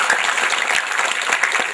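Audience applause at a youth-day oration at a campus in Central Java: dense, steady clapping from a crowd, loud and continuous throughout with no pauses.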